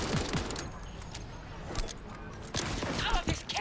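Gunfire in the video game Cyberpunk 2077: rapid bursts of sharp shots and impacts crackle through the scene in irregular clusters, close and loud, while someone speaks over the fighting.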